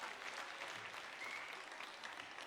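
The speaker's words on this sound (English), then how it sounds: "Everybody give yourselves a round of applause and applaud for the others who are also in the room." Applause from an audience of educators at an annual teacher tribute event, a dense, steady wash of many hands clapping throughout, fairly close and continuous, with no talk over it.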